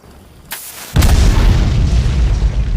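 A gunpowder-filled candle explodes in an animated cartoon about Leonardo da Vinci, with a brief pop followed by a loud, booming blast whose rumble lingers and fades slowly.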